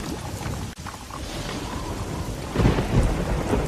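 Steady heavy rain and wind roar through a thunderstorm, with a low rumble of thunder building and swelling loud toward the end; no voices.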